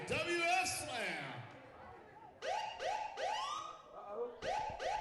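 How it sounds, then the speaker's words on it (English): Siren wails sweep up and down during a tag-team wrestling show entrance, loud rising-and-falling whoops repeating close together, with a voice talking over part of it. "I hear the sirens. They're coming."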